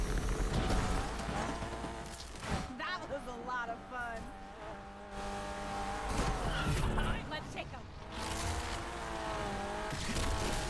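Tires squeal and engines roar as a car drifts in Need for Speed Unbound. The skid rises and falls over several seconds, with voices talking over the driving.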